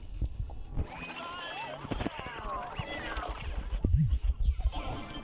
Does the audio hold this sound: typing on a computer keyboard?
no